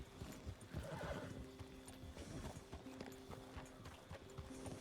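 Two horses stand outside a saloon in the Red Dead roleplay game, one whinnying loudly near the start while hooves clip-clop on the ground, with softer snorts and steps after it.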